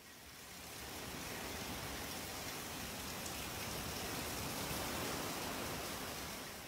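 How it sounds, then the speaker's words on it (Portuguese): Heavy rain pours steadily during severe weather in northern Portugal, a dense, constant hiss of drops hitting surfaces that fills the whole stretch without letting up, with no voices. "A chuva forte continua sem dar tréguas."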